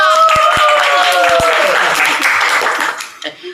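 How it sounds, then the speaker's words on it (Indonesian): Applause for a podcast guest: a brief burst of clapping blended with a bright tonal chime, tapering into a few scattered claps. "Tepuk tangannya dong."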